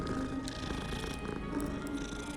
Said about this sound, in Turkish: Kedi gördüğümü severim.